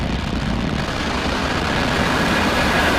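SpaceX Falcon 9 Merlin engines igniting at the NROL-95 launch, a steady, loud, broadband roar that fills the whole stretch without pause.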